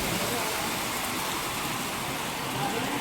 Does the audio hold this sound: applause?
no